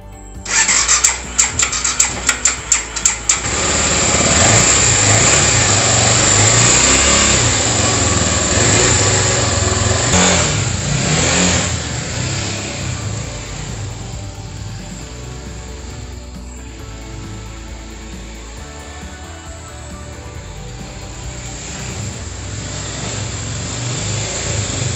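A restored BMW F650 GS motorcycle starts with a few sharp crackles, then revs up loudly and holds a strong, continuous engine roar as it rides off. The roar eases slightly toward the end.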